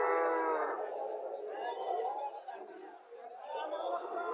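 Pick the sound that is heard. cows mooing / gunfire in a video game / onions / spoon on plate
cows mooing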